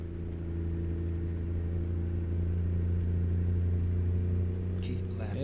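A Detroit diesel truck with an 18-speed transmission drives along on the highway, its engine droning steadily with a low harmonic rumble, and a brief rattle or air hiss near the end.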